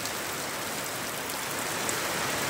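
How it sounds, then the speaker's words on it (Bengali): Heavy village rain pours in a dense, even roar of hiss and spatter that stays constant throughout, with no voices. "দেখতে পাচ্ছেন অনেক অনেক বৃষ্টি হচ্ছে"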